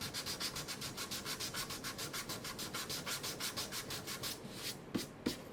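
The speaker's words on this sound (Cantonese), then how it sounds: "然後再攞砂紙磨幾下" Sandpaper is rubbed briskly over the wooden body of a handmade acoustic guitar after a hole was filled with sanding dust and glue. Some thirty quick, even back-and-forth strokes sound close, then stop, followed by two soft knocks.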